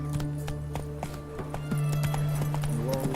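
Roach, Geralt's horse in The Witcher 3: Wild Hunt, trots with steady rhythmic hoof clops on the ground, mixed with game music and ambient tones.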